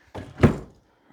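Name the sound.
old cupboard doors kicked shut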